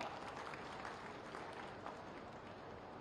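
Steady, dense applause from an audience welcoming the Chief Minister at a public ceremony for the inauguration of development projects, filling the whole stretch at an even level with no clear talk over it.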